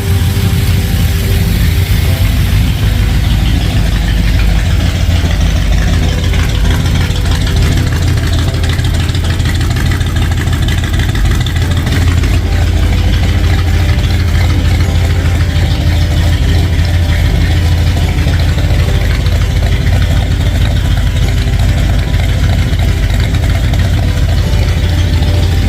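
A 1967 Ford F250 Highboy pickup engine idles right after its carburetor was replaced, a steady, loud, low rumble that runs on without pause, with no one talking.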